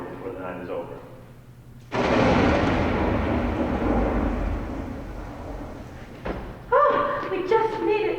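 Thunder from a storm rolls in as a loud, broad rumble lasting several seconds, with voices talking before and after it.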